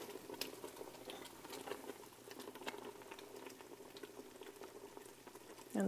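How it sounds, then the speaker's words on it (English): Homemade jam boils hard in a pot, a close, steady bubbling and popping with spattering bursts, heard on its own without speech. "So it's boiling like mad now."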